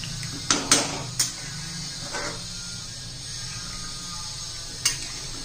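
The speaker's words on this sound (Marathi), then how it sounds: "काळा चना घालून घेऊया हे पहा व्यवस्थित मिक्स करून घेऊया" A utensil stirring black chickpeas in a pan for chana masala; a few sharp metal clinks and scrapes close together near the start and one more near the end, with a quiet background hum in between.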